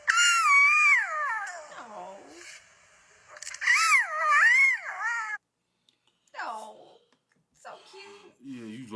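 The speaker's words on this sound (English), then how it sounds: "cubs will try to join in even when they aren't old enough to roar yet" Lion cubs, too young to roar, make high, wavering, warbling cries in several bursts with short gaps, strained and squeaky rather than a full roar.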